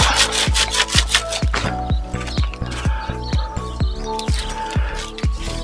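Potting compost being sifted through a 5 mm sieve, giving a steady rhythmic scraping and rubbing, roughly two strokes per second, close and fairly loud with no talking.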